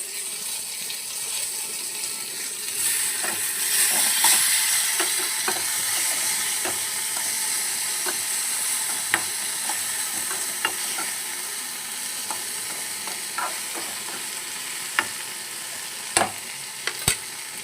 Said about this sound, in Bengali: পেঁয়াজটা মোটামুটি ভাজা হয়ে গেছে। এবার আমি এর মধ্যে টমেটো কুচিটা দিয়ে দিই।